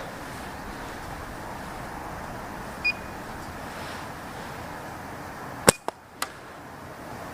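A single sharp snap of a shot is fired during a chronograph band test of Precise .50 bands, followed by quick clicks against a quiet outdoor background, with a faint beep earlier.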